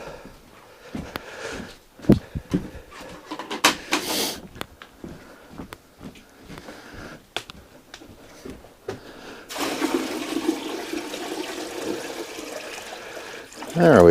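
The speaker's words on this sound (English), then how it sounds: "Next part of the process, fill up my pots." Water pours and splashes into pots inside a cabin, first as intermittent splashes and knocks, then as a steady louder stream for the last few seconds, close by.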